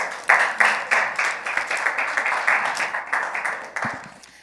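A small crowd applauds steadily for a few seconds, claps fairly close and evenly spread before fading.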